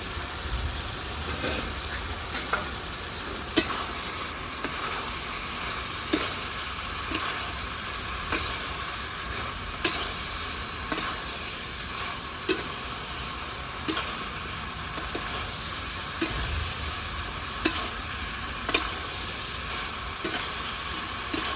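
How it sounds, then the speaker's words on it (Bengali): Pointed gourd is stirred and sautéed in tomato gravy, its constant loud sizzle broken by regular spatula scrapes and clinks against the pan roughly every second. "পুরুলগুলো বন্ধুরা ভালো করে গ্রেভির সঙ্গে কষে নিয়েছি"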